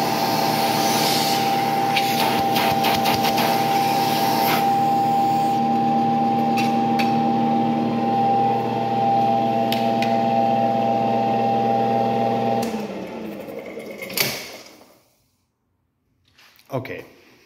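An Arco Wand Model 341 built-in vacuum cleaner from 1915 runs with a loud, steady mechanical drone and whine, with clicks over it, then winds down and cuts off near the end.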